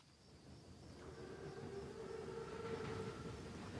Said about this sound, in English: Train's right on time.